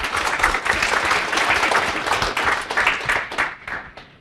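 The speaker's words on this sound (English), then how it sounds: "Let's have some applause for John." Applause from an audience at an AngularJS developer meetup, a steady wash of many hands clapping that holds for several seconds before thinning and tapering off toward the end.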